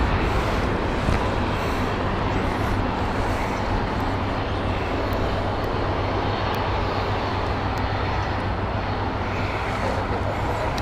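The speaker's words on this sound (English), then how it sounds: "two taxiing planes. I've got a A330 from Virgin and a United 777." Jet engines roar in a steady, loud, broadband wash with a high whine on top, a Virgin A330 and a United 777 taxiing nearby at Heathrow Airport.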